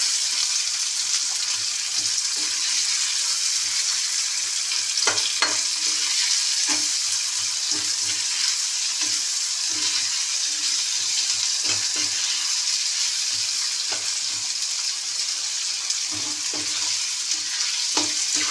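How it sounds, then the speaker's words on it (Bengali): Constant bright sizzle of onions frying with a little sugar in a pan, close up, with scattered scraping stirs throughout. "পেঁয়াজটা ভাজা ভাজা হয়ে গেছে"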